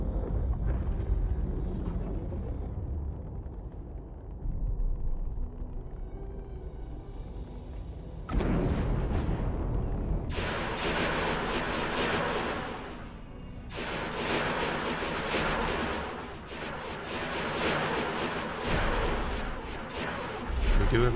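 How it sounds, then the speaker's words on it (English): Heavy guns firing in the Star Wars Interworlds game, Sith side: booming artillery-like shots and rumbling bursts recur through a steady low roar, growing denser and louder in the latter half. "you can see the guns going off"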